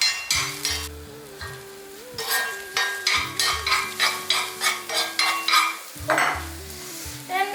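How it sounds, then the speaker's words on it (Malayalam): An egg frying in a pan after brinjal, with a steady sizzle and a spatula scraping and tapping in quick rhythmic strokes, close up, while a low tonal hum runs underneath and no one speaks. "ഇനി നമുക്ക് നമ്മുടെ ഈ ഒരു മുട്ട ഒന്ന് വറുത്തെടുക്കാം"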